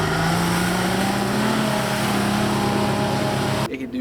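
A Ford Pinto's engine revs hard and steady while the car drifts, a loud close drone with a rising pitch that cuts off abruptly near the end.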